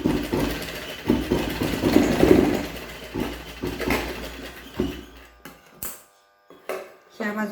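A sewing machine stitches a cloth face mask in short runs, its needle chattering close by, broken by pauses and handling noise while a voice talks intermittently.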